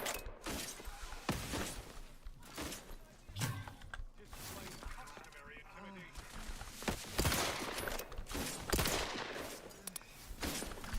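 Gunfire in a tactical shooter video game, with bursts of automatic shots and scattered single cracks under quiet game chatter, fairly faint overall with a few sharper loud reports.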